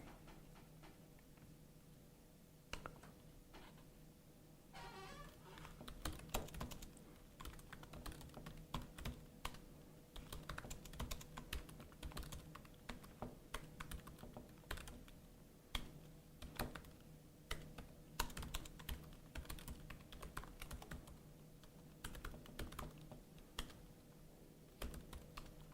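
Keys clatter on a computer keyboard while a programmer debugs code, irregular quick bursts of close, crisp keystrokes continuing throughout over faint background hum.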